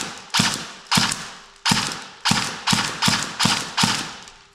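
A Cyma CM030 Glock 18c airsoft pistol, noted for a failing motor, fires eight sharp, evenly spaced shots into a test tube, each a crisp snap with a short mechanical rattle, close and loud with no talking.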